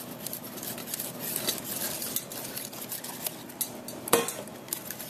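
Ingredients for a chocolate cream pie mixed in a bowl, soft continuous scraping and clinking of utensil against the bowl, close and fairly quiet, with one sharper clink near the end.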